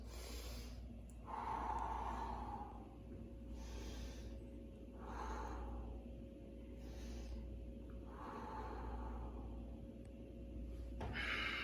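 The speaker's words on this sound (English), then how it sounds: "just take a couple big deep breaths" Slow, deep breaths taken while hanging from a bar after deep squatting, four or five long airy inhales and exhales at an even pace, close but soft over a steady low background hum.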